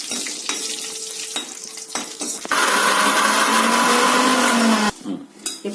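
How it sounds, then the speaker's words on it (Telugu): A mixer grinder whirs loudly in steady bursts, blending raw tamarind pieces together with a cooled tempering of red and green chillies for a tamarind and cucumber chutney, with brief clinks and stirring between runs. "ఆ జార్లోనే మనము ఇప్పుడు వేసుకున్నటువంటి తాలింపు కూడా కలుపుకొని మిక్సీ చేద్దాం"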